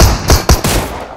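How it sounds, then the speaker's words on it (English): Rapid gunfire from bots in a shooter video game, several loud shots in quick succession over about a second. "No, those are bot shots."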